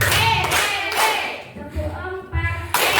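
Audience members clap in a counted clapping exercise during a teacher training session, a few short bursts of hand claps separated by brief pauses, close and distinct.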